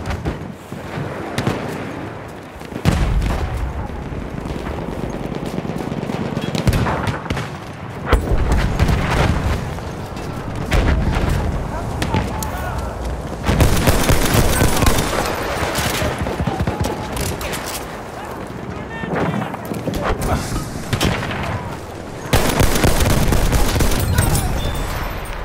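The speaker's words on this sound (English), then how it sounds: "Machine gun over there!" Machine gun fire in Battlefield 1, long stretches of rapid bursts mixed with booming explosions, loud and dense throughout with occasional voices.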